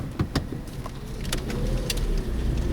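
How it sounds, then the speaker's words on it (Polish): A car pulls away gently with a touch of throttle during a driving lesson, a low engine hum rising slightly, with a few small clicks and rattles inside the cabin early on. "I ruszam. Dodaję troszkę gazu, żeby mi samochód nie zgasł."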